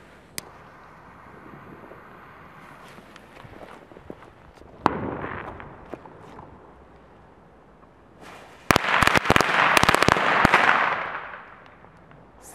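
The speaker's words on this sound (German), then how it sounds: "Als nächstes die Packet Cracker von Keller." Keller Packet Cracker firecrackers going off outdoors: a few scattered sharp pops and faint footsteps, then a dense, loud burst of rapid cracking bangs that fades into crackle.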